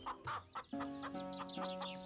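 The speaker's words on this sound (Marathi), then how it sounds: "थोडा लांब जाऊन चंपक आणि वीरू एका कोंबडीच्या दुकानात जातात" Chickens cluck at a poultry shop in an animated story, a short burst of several bright, close clucks and calls with no talking.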